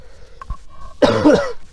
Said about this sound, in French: Je tousse un petit coup